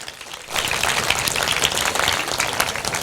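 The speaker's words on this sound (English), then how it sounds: "Give a big round of applause to OUP, ladies and gentlemen." A crowd at a stand-up comedy show during the Karachi Literature Festival breaks into applause, which swells suddenly after a quiet moment and keeps up as a dense, steady clapping.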